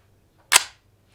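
A single sharp gunshot from a SIG MCX Rattler short-barreled rifle firing 300 Blackout 220-grain spire-point handloads, loud and close with a quick decay and quiet on either side.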